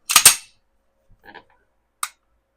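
Beretta 92FS pistol with a cleaned-up sear and factory sear spring: a crisp double click at the start, then a faint short rattle and one more sharp click a moment later, all close and dry with no talk.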